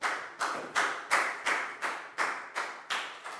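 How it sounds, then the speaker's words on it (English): Rhythmic clapping in a children's English class for a pupil, nine evenly spaced, fairly faint claps at a steady beat, each a sharp hit with a short tail and no voices. "a big round of applause for Pat"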